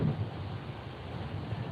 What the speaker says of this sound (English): yeah, it is pouring.